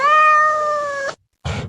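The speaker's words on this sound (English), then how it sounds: "That's a nice cat sound." A recorded cat sample plays in a cat synthesizer: one clear, drawn-out meow lasting about a second, close and loud, followed by a short gap and a burst of brief noise.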